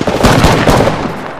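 Rapid automatic gunfire in the battle royale shooter Apex Legends, a loud close burst of quick repeated shots running continuously for over a second before tapering off slightly.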